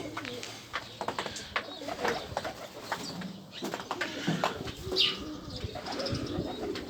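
Homing pigeons cooing close by, soft repeated throaty calls with a few chirps and wing flutters in the background.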